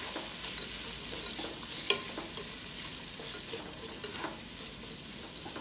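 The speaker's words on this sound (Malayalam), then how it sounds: "നമുക്കിതിലോട്ട് കുറച്ച് ഉപ്പും കൂടെ ചേർത്തിട്ട് നന്നായിട്ട് തന്നെ നല്ലപോലെ തന്നെ ഒന്ന് വഴന്ന് വരണേ" Onions sautéing with salt in a pan give a soft, continuous sizzle with gentle stirring scrapes, fairly quiet and steady, with no talking.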